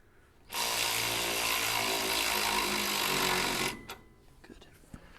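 A power grinder running in a garage, a steady loud whine held for about three seconds that then spins down, followed by faint clatter and a brief voice.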